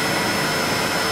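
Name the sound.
vacuum cleaner running while cleaning an eMac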